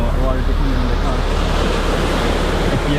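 Sea waves breaking on a beach near Muscat produce a loud, continuous roar of surf mixed with heavy wind buffeting the microphone, with no clear speech.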